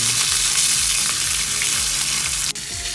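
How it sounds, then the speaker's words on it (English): Mayamaya fish frying in hot oil, giving a loud continuous sizzle and crackle that runs steadily throughout, with one brief sharp tap near the end and no talk. "I have to fry this properly"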